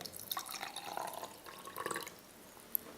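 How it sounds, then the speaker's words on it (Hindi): Water is poured into a humidifier, trickling and dripping in uneven bursts with small splashes and a faint glassy clink, close and fairly quiet, with no one speaking. "पानी मेरे पास यहाँ पर मौजूद है और ये पानी मैं इसके अंदर"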